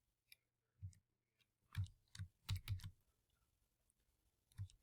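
Computer keyboard keys typed in short bursts, several quick clicks clustered together with pauses between, close and fairly quiet, no talking.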